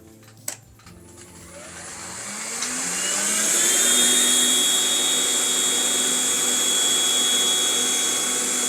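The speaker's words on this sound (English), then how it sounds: "now let's check out how our vacuum cleaner is able to tackle this" A Philips Speed Pro cordless vacuum cleaner starting up after a click and rising to a steady high-pitched whine as it works over a dirty window grill, loud and close with no talking.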